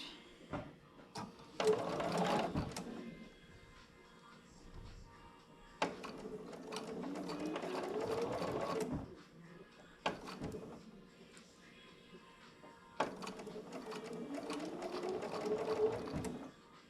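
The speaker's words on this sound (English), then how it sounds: "correct this part by putting it into the machine first" A sewing machine stitches quilt pieces in three separate runs, each a few seconds of fast, even whirring and needle chatter, with quieter pauses between bursts.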